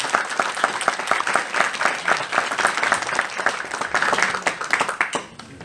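A church congregation claps together in warm, steady applause during a Sunday worship service in Korea, a dense patter of many hands that fades out at the end.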